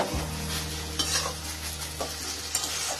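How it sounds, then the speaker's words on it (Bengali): Spatula stirring garam masala powder through banana flower mochar ghonto in a frying pan, with continuous scraping strokes over a steady low sizzle, close and alone. "গরম মশলার গুঁড়োটাও ভালোভাবে মিশিয়ে নেব।"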